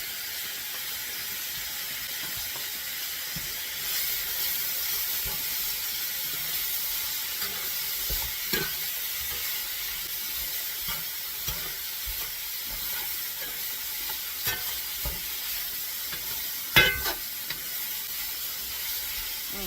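A couple tablespoons of minced garlic sizzle steadily in a pan, a constant close hiss with a few soft stirring knocks and scrapes and no talking.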